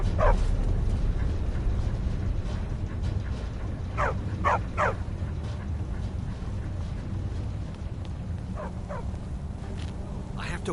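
Dogs in the video game Skyrim give a few short, scattered barks and yips at moderate distance over a steady ambient background hum, with several barks clustered in pairs.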